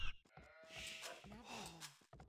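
Sheep in a video game bleat in a wavering, drawn-out cry, loud and close, with several overlapping calls over a busy background.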